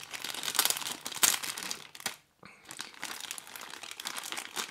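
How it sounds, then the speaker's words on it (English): A clear plastic wrapper is peeled off a boxed remote-controlled stunt car, giving close, continuous crinkling and crumpling bursts with a short quiet gap midway, no talking. "then unwrapping the clear plastic wrapper"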